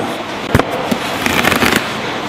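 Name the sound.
karambit knife blade slashing and lacerating a target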